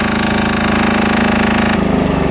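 A small Mighty Midget 3/200 diesel engine-driven welder generator runs loud and close with a steady rapid chugging drone, and its pitch shifts slightly partway through as the load changes.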